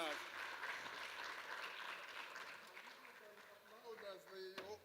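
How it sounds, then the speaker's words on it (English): Audience applause for panelists at a technical panel session, a broad steady wash of clapping that fills the whole clip, with faint voices emerging near the end. "please join me in applauding the panelists"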